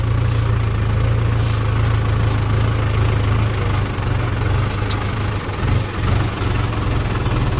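A Mahindra tractor engine idling in a farm field after wheat sowing, a steady, close, low diesel throb with a constant hum, carrying on without a break.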